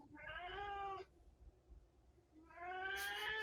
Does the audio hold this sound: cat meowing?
yes